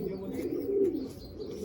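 A pigeon coos softly in a loft of Madrasi and Andhra pigeons, a low, steady murmuring call close by, with faint background noise.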